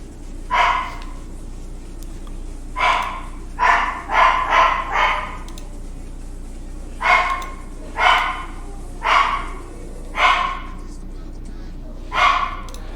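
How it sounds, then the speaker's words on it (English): Small dogs bark in short, sharp bursts, mostly single and some in quick doubles or triples, spaced irregularly over steady background hum at moderate distance. "Hey, little dogs, why are you barking?"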